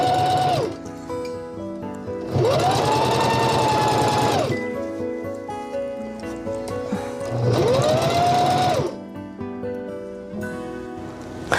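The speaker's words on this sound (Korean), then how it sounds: "이렇게 다시 뒤집어서 이렇게 지금 박고 있어요." Sewing machine stitching a yacht cushion cover, running in long steady bursts with a rising whir at each start, pausing between seams; loud and close with no voices.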